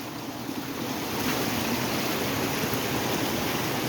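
Water gushes from a broken water main on Heath Street in Boston in the early morning, a dense, continuous rushing roar heard up close and steady throughout, with no talk over it.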